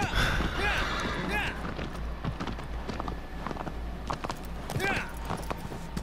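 Horse hooves gallop in a rhythmic clip-clop through the video game Shadow of the Colossus, steady and fairly close throughout, with someone talking over them.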